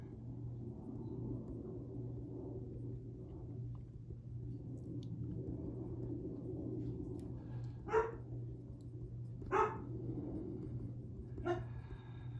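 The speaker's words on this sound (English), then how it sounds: "Cooper is talking to the neighbor dog again" Cooper the dog barks three times at a neighbor dog, short separate bursts standing out over a steady low household hum with the windows open.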